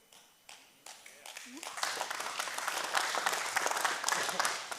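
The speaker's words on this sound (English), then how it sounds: "You can clap because that almost didn't happen" Applause from an audience at a speaking event, starting as a few scattered claps and swelling into steady, dense clapping from a whole crowd.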